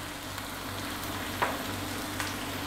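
Whole spices and cumin seeds frying in hot oil, a faint steady sizzle with a couple of brief scraping stirs; no voices.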